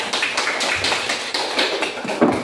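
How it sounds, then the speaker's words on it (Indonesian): A group of students in a classroom claps steadily together, a dense, even patter of many hands with no talking. "Coba dulu kasih tepuk tangan dulu supaya semangat."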